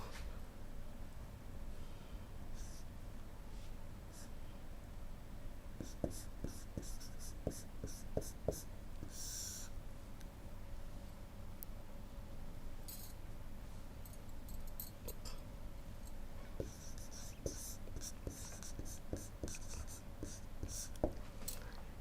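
Chalk or marker writing on a board during a Hindi maths lesson on algebraic expressions, heard as faint scratchy taps and strokes in scattered bursts under a steady low room hum, with no talk.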